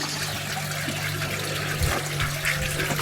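Water splashing and trickling steadily as garden plants and bonsai trees are watered outdoors, a continuous close wash of liquid sound with a low steady hum beneath and a couple of brief louder splashes.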